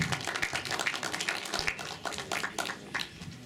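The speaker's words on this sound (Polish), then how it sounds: "Mogą być brawa, tak." Scattered audience applause at a Warsaw marathon event presentation, with irregular claps of moderate loudness continuing steadily through the moment.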